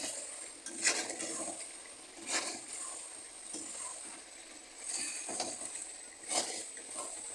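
Chicken with potatoes and spices being fried and stirred in a pan, soft sizzling beneath a few scraping strokes of the spoon, fairly quiet.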